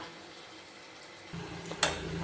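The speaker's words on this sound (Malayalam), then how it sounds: "തീർത്തും ചെറുതായി കട്ട് ചെയ്തതാണ് ഇതൊന്നും വറുത്തെടുക്കണം" Finely chopped onions frying in oil with salt, a soft steady sizzle that swells and grows louder partway through, with a brief utensil clink against the pan near the end.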